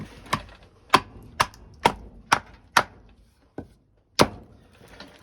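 Sharp wooden knocks from a D2 steel chopping knife being batoned through wood, about eight distinct hits spaced unevenly with short quiet gaps between strikes, close and loud.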